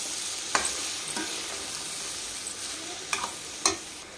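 A pan of beetroot and fresh coconut curry is stirred slowly over a low flame: a steady soft sizzle broken by a few sharp scrapes of the spoon against the pan.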